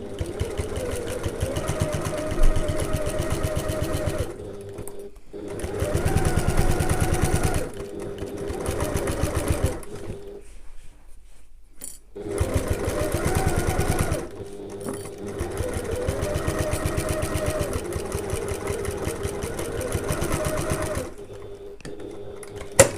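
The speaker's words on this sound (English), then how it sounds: "we're going to sew it the same as we did before, with our regular stitch length, regular seam allowance" A domestic sewing machine stitches a tote bag seam in several runs of rapid, even whirring, each lasting a few seconds, separated by brief pauses and one longer stop while the fabric is repositioned.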